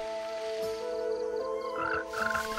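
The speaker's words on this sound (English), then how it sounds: "A large tree frog feels the approach of spring." Large tree frog croaking in a dense bamboo forest, a steady run of repeated calls with harmonic tones, fairly close and alone with no talk.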